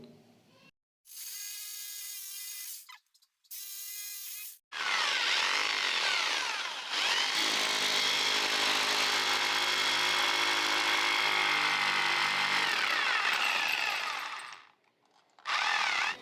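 Power tool cutting around the perimeter of a gypsum ceiling, whining in short bursts at first and then running in one long loud grinding stretch before cutting out and starting once more.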